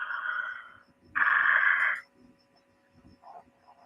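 Frogs call during mating season, giving two loud buzzing croak bursts followed by a few shorter, fainter ones, each separated by quiet gaps.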